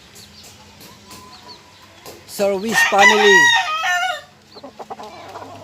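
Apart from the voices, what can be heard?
chicken clucking and crowing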